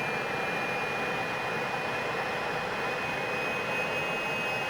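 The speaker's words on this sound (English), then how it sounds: "just waiting for the engine to stabilise at 7000 RPM" Fouga CM.170 Magister jet engine in Microsoft Flight Simulator holding near 7000 RPM, a steady loud turbine roar with a constant high whine, continuous and unchanging throughout.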